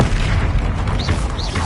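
A loud, rumbling blast from the Bombarda spell in a Harry Potter video game, a sustained booming explosion filling the moment with dense low roar and a couple of brief whooshing streaks over it.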